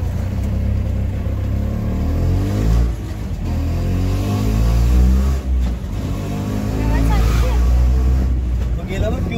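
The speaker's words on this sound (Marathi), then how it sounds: "आता आम्ही चाललोय रिक्षाने." An auto rickshaw carrying a crowded group on a pilgrimage trip drones steadily with a low engine hum throughout, while people talk over it the whole way.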